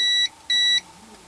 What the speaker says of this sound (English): That beep is simply because the capacitor is charging from my probes.